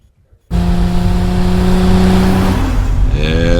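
Loud, close car engine roaring at high revs in a Super Bowl-style TV car ad, bursting in after a near-silent start, holding a steady droning pitch and then shifting tone near the end.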